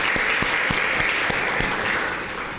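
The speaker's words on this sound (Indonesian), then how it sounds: "Anak-anak kasih aplaus untuk Mas Alek." Children clapping together in a classroom, a dense, steady burst of applause with a few sharper individual claps standing out, tapering slightly at the end.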